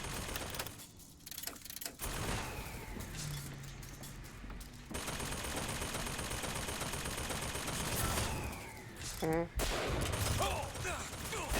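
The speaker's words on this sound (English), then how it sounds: "you might want to throw some fire up at that machine gun thing" Machine-gun turret fire in Bioshock Infinite, a dense sustained chatter of rapid shots that runs through most of the stretch, broken by a few brief gaps, with a voice cutting in now and then.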